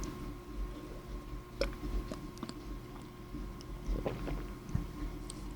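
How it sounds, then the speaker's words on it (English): Tea is sipped and gulped during a walk around Vancouver, with a few soft, close wet mouth sounds and swallows over low outdoor background hum. "I'll take another sip of my tea."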